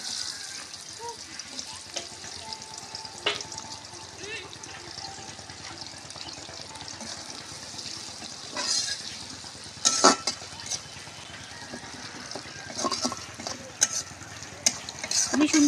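Green chillies and onion frying in a pan after fish was fried, a steady close sizzle with occasional stirring scrapes and clinks, with some speech in the background.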